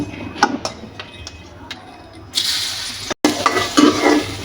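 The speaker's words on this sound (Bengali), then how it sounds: "আদাগুলো একটু ভেজে নিতে হবে" Ginger pieces frying in a small amount of oil in a wok, quiet at first with a few utensil clicks, then a louder hissing sizzle swells up, briefly cuts out, and returns with stirring scrapes, close by.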